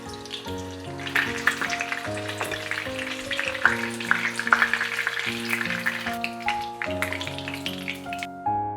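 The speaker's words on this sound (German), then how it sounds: "Ein Schuss Öl in die heiße Pfanne." Tofu frying in a hot pan with oil, a close crackling sizzle with bursts of spattering that swell and fade under background music, with no speech.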